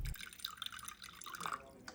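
Water dribbled in small drips onto a kitchen scale while measuring 120 grams for a sourdough recipe, a close, irregular patter of droplets and trickles running throughout.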